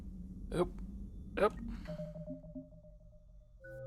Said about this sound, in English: That's my phone going off.